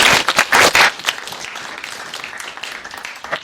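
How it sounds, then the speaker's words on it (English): An audience applauds at a Prescott JROTC gathering welcoming a retired colonel and Vietnam POW, with loud, close clapping at first that quickly thins to a quieter patter before a brief final burst. "Another round of applause, please."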